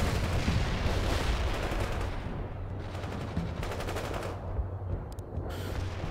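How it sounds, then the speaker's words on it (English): Artillery fires in the real-time strategy game World in Conflict, with repeated rapid reports and rumbling blasts rolling over a steady low battlefield hum, fairly distant and continuous, with no talking. "Artillery firing."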